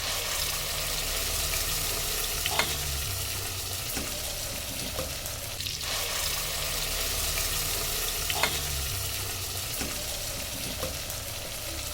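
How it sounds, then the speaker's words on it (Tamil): Steady sizzling and frying of eggplant sautéing in oil in a pan, with occasional stirring scrapes over a constant hiss. "கத்திரிக்காய் நல்லா வதங்கணும்."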